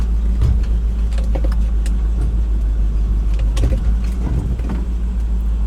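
A Land Rover with a flashing check engine light idles roughly and misfires, a loud, close, low rumble with uneven stumbles and occasional mechanical clinks, running on its own without voices.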